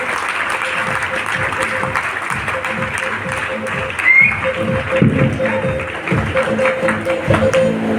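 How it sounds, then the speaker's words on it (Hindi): Audience applause welcomes a speaker onto the stage at a seminar event, a steady moderate roar of many hands that swells midway, with voices talking over it throughout. "जबरदस्त ताली, पीछे वाले दोनों हाथ ऊपर करके बैठे रहो"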